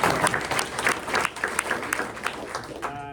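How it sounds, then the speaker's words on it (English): Audience at a Santa Barbara press luncheon breaks into steady, lively applause, many hands clapping together across the room for a few seconds, with a few voices mixed in. "let's just give him a round of applause"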